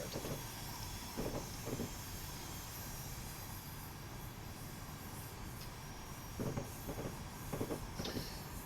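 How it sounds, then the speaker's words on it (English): A GE U34CH New Jersey Transit locomotive runs in a Train Simulator game, giving a steady loud rail rumble and hiss with periodic wheel clatter bursts throughout, no talk. "this is the new locomotive, the GE U34CH"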